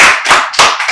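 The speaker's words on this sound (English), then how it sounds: "Please give a round of applause for this organization for trying to create this talent." A round of applause from an audience at a camp activities event, with dense clapping that swells in two or three waves across one second, loud and close, with no talking.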